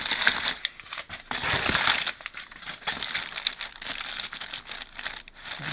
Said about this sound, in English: Go ahead and cut this open, and then we'll see what's in here.